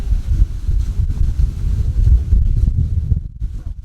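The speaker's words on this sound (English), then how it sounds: "Flaming wind this weekend so far is terrible at the moment" Strong wind blowing outdoors and buffeting the microphone in loud low rumbling gusts that surge and ease continuously, with no other clear sounds.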